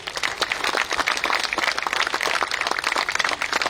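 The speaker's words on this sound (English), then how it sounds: "Big applause, please." Audience applause at a civil society gathering, a dense, steady patter of many hands clapping close by throughout, with no talk over it.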